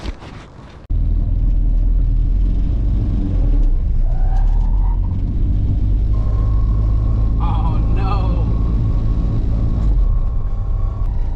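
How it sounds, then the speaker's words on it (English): Honda car fitted with T6 coilovers driving around the block, a steady loud engine and road rumble heard from inside the cabin, continuous after a brief start, with no talk. "I'm gonna go ahead and drive the car around the block a couple of times just to get a feel for the T6 coilovers."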